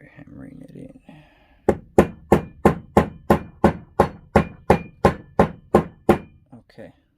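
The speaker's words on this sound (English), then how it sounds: "Let me see if I can get my little rubber mallet and start hammering it in." A small rubber mallet taps a part into a CZ 75 SP-01 full-size pistol during disassembly: about a dozen sharp, evenly spaced knocks in a quick regular rhythm, close and loud, after a few moments of low voice and handling noise.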